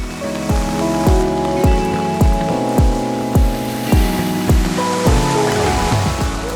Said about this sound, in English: even though it's raining, it's still very nice